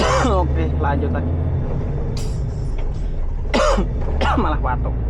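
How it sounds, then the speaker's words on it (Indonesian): A cough bursts out on a motorbike ride along a rough, dangerous road, with a couple of sharp hacking bursts over steady engine and traffic rumble, while a person talks before and between. "Malah batuk."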